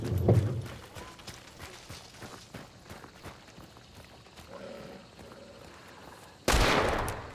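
Gunfire in the shooter Hunt: Showdown, a loud shot at the start and another sharp, close blast near the end, with quieter rustling and movement between them.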